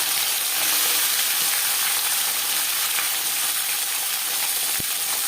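Marinated shing fish frying in hot refined oil, a steady, loud sizzle and spatter of oil with a few faint knocks, continuous and without voices.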